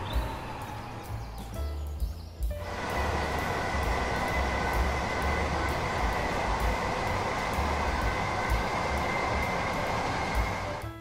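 A train running on the East Coast Main Line in Train Sim World 4, first faint with a steady low rumble, then jumping at about 2.5 seconds to a loud, continuous roar and hiss with a tonal whine that holds to the end.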